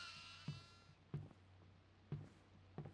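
Goats bleating in the horror video game Devour, four short separate bleats spaced across a few seconds over a quiet, low background drone.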